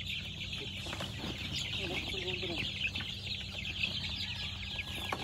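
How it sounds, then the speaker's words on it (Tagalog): Hundreds of chicks peep continuously in a high, dense chorus while being gathered into cardboard boxes outdoors, with people talking underneath. "Kaya oras na para maghakot ng mga sisiw at ilagay sa karton."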